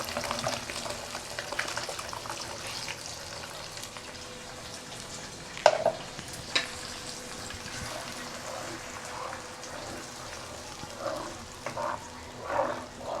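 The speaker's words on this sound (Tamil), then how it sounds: "இந்த மசாலாலாம் நல்லா வந்து கொதித்து அது எண்ணெய் திரிஞ்சு வரணும்." A steady, soft sizzling and bubbling hiss runs throughout, a thick masala mixture simmering in hot oil, with a few faint clinks.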